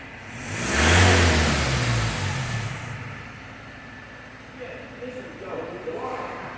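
A 2015 Ford Transit Custom 270 EcoTech van with 108k miles, engine running close by. It revs up loudly around the first second, then settles back to a steady idle hum, and a person talks over part of it.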